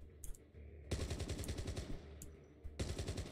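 Rapid gunfire from a video game running in an emulator, two loud bursts of fast machine-gun shots close up, split by a brief pause.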